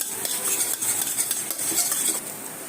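Eggs being stirred and scrambled in a pan into bhujia for mixed fried rice, with quick, busy metal scraping and clinking of a utensil over a soft sizzle.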